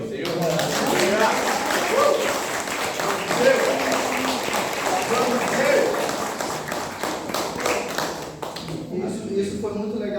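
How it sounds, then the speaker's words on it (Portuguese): Congregation applause at a church mission service, a dense steady wash of clapping across the whole stretch that thins toward the end, with voices mixed in underneath. "Vamos aplaudir ao Senhor."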